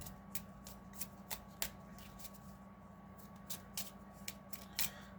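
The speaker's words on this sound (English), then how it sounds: "And then I will shuffle." A deck of trading cards is shuffled by hand, giving a series of crisp riffling bursts in an irregular rhythm. Each burst is close, fairly quiet and heard alone, over a faint steady hum.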